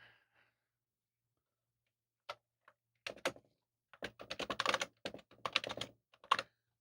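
Keys clatter on a Data General Dasher terminal keyboard, a quiet pause giving way to a string of irregular, close clacks and taps as someone types in short bursts.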